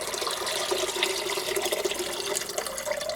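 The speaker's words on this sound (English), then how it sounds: "Now I'm going to pour off the broth from this chicken" Chicken broth pours off cooked chicken pieces in a steady close liquid stream, splashing continuously with slight fluctuations and no talk.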